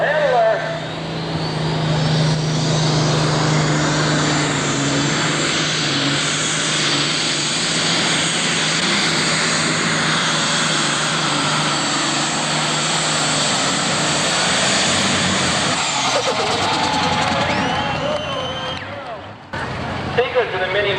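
Big-cubic-inch super stock tractors roar at full power during a 1988 tractor pull at Fort Recovery, a loud sustained engine drone that holds steady for most of the run before easing and cutting off near the end.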